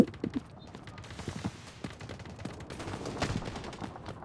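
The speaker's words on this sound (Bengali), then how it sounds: "ওই দূরে থেকে স্নাইপার দিতেছে দেখছেন?" Gunfire in the Delta Force Mobile shooter game crackles as scattered faint shots and rapid bursts over quiet background, sounding distant and thin throughout.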